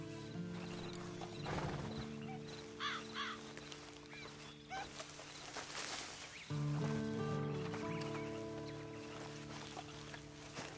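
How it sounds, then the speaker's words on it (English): Horse hooves clip-clop at a steady walking rhythm in the video game Red Dead Redemption 2, fairly close and moderately loud, with a brief whinny and tonal game music or ambience running underneath; no talking. "And you better get on this horse."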